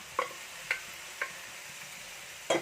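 Chinese potato (koorka) curry being stirred in a pan: four sharp scrapes of a spoon at an even pace over a soft continuous sizzle, close and clear, with no voices.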